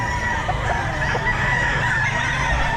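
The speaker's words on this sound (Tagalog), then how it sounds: "ganda ng mga manok ni Boss Perry." Chickens clucking and murmuring amid a dense, steady background din at a pet market, fairly close, with no clear crow standing out.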